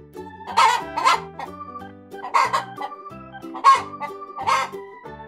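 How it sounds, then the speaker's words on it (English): On a farm-animal sound track for children, a rooster crows repeatedly in short, bright, bursts with clucking chicken calls mixed between them, close and clear, in an uneven rhythm across several seconds. "chicken,"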